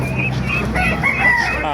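A roundhead sweater gamecock rooster crows loudly and close at a busy chicken market, its harmonic call rising over background chatter and voices.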